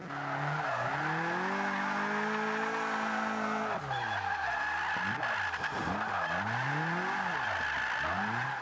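Tires squeal and skid in long sustained bursts over a revving engine as a Scion tC drift build slides through corners in Forza 5, loud and continuous with pitch sweeping up and down.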